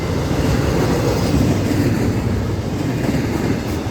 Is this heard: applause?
no